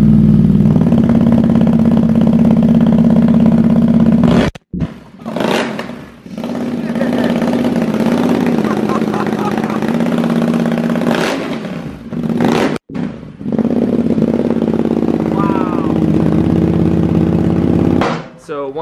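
A Ducati XDiavel with a Termignoni exhaust and its baffles removed idles with a deep, loud, uneven rumble and rises in a few sharp revs, breaking off briefly between bursts.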